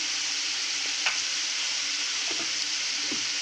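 Cut potatoes with curry leaves and salt being stirred in a hot pan, a steady sizzling hiss throughout with a few soft scraping strokes of the spoon, close and alone without voices.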